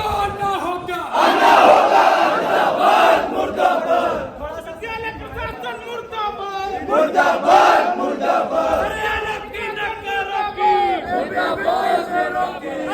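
Protest crowd on a university campus at BBAU chanting slogans against the administration, loud, close voices rising and falling in repeated chanted waves.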